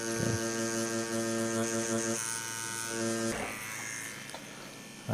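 A rotary tattoo machine fitted with new needles runs steadily for a micro tattoo, giving a continuous close electric hum and buzz whose tone shifts partway through, without any talk over it.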